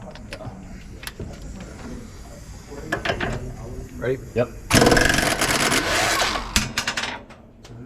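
An impact wrench works a bolt on a G35 camber arm with a loud, rattling metal-on-metal burst lasting about two seconds. Clanks and brief talk come before it, and shorter bursts follow.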